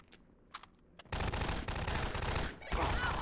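Rapid automatic gunfire in the video game Half-Life 2: Lambda Fortress Extended, a loud sustained burst of shots starting abruptly after a few faint isolated pops, continuing nearly without pause with a brief dip near the end.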